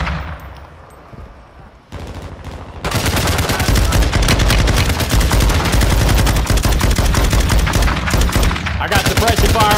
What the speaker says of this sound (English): I got suppression fire on them.